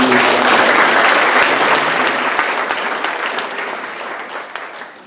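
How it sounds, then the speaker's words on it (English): Audience applause at a club meeting, a dense crowd clapping loudly and steadily before gradually thinning and fading toward the end, with no voices over it. "So a round of applause to everyone who"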